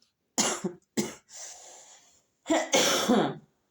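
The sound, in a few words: coughing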